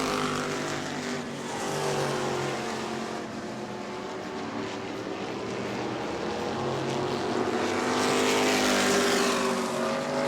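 E-Mod race cars roar around New Smyrna Speedway, a steady loud drone of several engines passing near and far with rising and falling pitch and no break in the noise.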